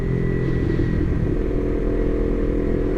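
Small motorcycle riding along a highway, a steady droning engine hum with buzzy tone and constant rumble, close and continuous without talk.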